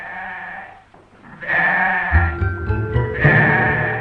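A sheep bleats loudly and close, a few drawn-out wavering cries running back to back.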